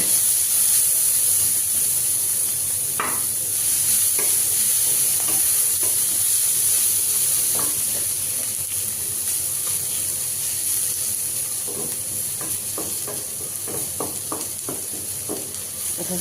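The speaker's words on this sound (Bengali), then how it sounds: "পেঁয়াজটাকে একটু ভেজে নিয়ে তারপরে ক্যাপসিকাম আর গাজর ভাজা ভাজা করে নিচ্ছি" Onion, capsicum and carrot fry in a pan with a continuous loud sizzle and hiss, broken by repeated scraping stirs that grow more frequent toward the end.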